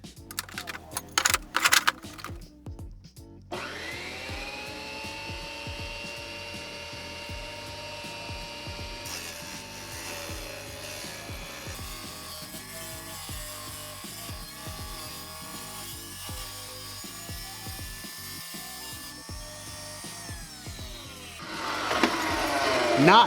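A cheap tile saw runs steadily as it cuts a 45-degree miter through ceramic tile, a sustained whining motor tone with grinding under it, after a few sharp clatters at the start and rising noise near the end.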